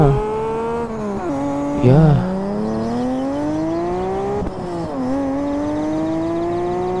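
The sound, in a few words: police box truck driving, from a video game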